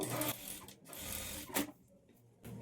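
A sewing machine stitches the waistband of a simple blouse, its motor whirring steadily in short runs with brief stops between them, quiet and close, with no talking.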